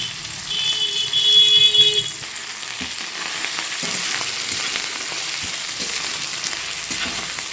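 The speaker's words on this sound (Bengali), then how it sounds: "পেঁয়াজ দিয়ে একটু ভালো করে নেড়ে নেব" Onions for a rohu fish curry crackle and hiss as they fry in a pan, with intermittent stirring scrapes. A brief high electronic tone sounds early on, and the sizzle then continues steadily.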